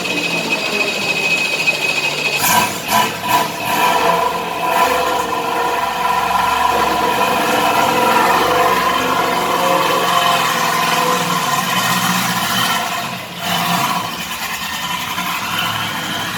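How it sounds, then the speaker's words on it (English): An LS-type race car engine idles at a wet race track, a steady, continuous drone mixed with heavy gusting wind buffeting the microphone. "It sounds like an LS engine to me."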